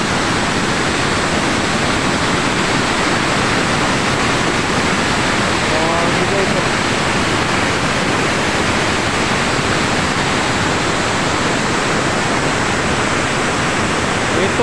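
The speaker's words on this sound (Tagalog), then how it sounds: "Grabe yung lakas ng baha." Strong floodwater rushes past in a loud, unbroken roar that stays steady for the whole stretch, close and dense with no pauses or voices.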